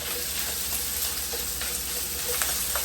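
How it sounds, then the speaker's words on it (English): Onions and aromatics saute in oil in a pan, giving a steady, close sizzle and crackle that holds even and unbroken, with no talking. "Because I'm going to saute other veggies and aromatics, I'm going to leave the oil today."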